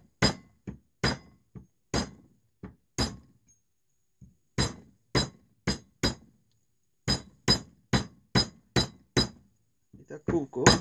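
An axe taps a coconut to crack it open, giving a run of sharp, hard knocks in uneven rhythm with short gaps, loud and close, with a brief rustle at the end.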